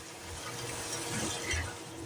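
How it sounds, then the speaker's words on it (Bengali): Water poured into frying spice mix with Kashmiri chili powder in a pan, giving a steady rushing, sizzling wash of liquid heard close up throughout, with no talking. "এর মধ্যে একটু জল দিয়ে দিলাম যাতে মশলাটা পুড়ে না যায়"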